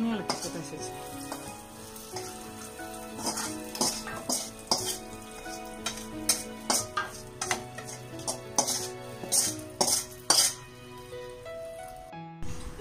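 Onions and curry leaves fried in coconut oil sizzle loudly in a pan as a tempering, with steady frying hiss, repeated stirring scrapes and light utensil clinks throughout.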